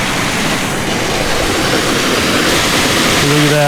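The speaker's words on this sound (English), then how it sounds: "You got a little waterfall right there." A small waterfall on California land rushes as loud, steady broadband white noise throughout, close and continuous, and a voice begins just at the end.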